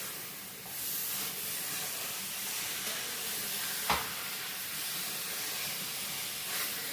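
Chicken biryani masala sautés in a pan with a steady, close hiss and sizzle, broken by one sharp crackle partway through.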